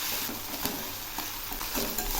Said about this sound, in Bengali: এখন আমি এই পেঁয়াজ রসুনটা একটু ভালো করে ভেজে নিব।